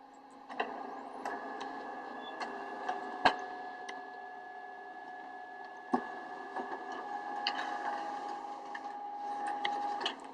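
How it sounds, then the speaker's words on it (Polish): A printer at a truck scale station outputs a weighing document, giving irregular mechanical ticks, clicks and sharp knocks over a steady whirring hum, moderately close with no voices. "Za chwileczkę pójdzie transmisja do drukarki."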